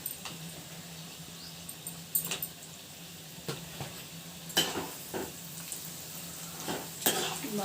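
Almonds fry in hot oil tempering with cumin for lemon rice, a quiet sizzle with occasional spoon clinks and scrapes against the pan as the mixture is stirred, faint and close.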